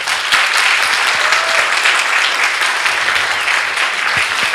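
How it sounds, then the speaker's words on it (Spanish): A church congregation at a Sunday morning service applauds loudly and steadily, a dense wash of clapping that holds at a constant level from start to finish. "Denle un aplauso al Señor"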